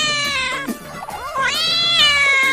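A kitten stuck by a pond meows repeatedly, high and plaintive, with rising and falling cries close by and no talk over them.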